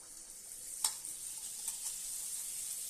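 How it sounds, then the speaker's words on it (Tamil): Appam batter dropped into hot oil, a sharp splash-like burst of sizzling followed by a steady, fairly faint bubbling fry with no talking. "எண்ணெயும் நல்லா காஞ்சிருச்சு இதில் அப்படியே விட்டுடலாம் மாவை"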